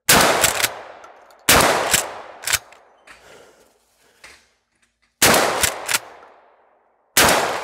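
Mossberg 500 pump shotgun fired in rapid clusters during a high-round stress test, loud close blasts in groups of three or four with ringing decay, a quieter mechanical handling stretch in the middle, then more shots.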